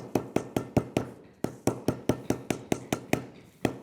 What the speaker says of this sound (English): We can even come with that hammer and tap down around our edges.